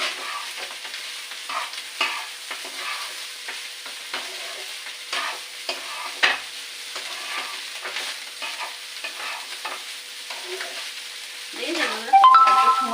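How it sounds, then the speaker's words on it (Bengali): Food sizzles in a hot pan while a utensil scrapes and stirs in quick irregular strokes, ending in a louder clatter. "কড়াইয়ের মধ্যে কত সুন্দর একটা রান্না হয়ে গেল"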